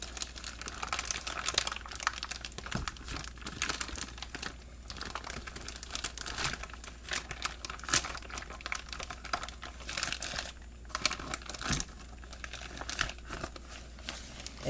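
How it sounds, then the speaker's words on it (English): A smoked turkey lifted out of its paper wrapping, close, irregular crinkling and crumpling with sharp crackles and tearing rustles in uneven bursts over about fifteen seconds, without talk. "just lift your bird out of its paper"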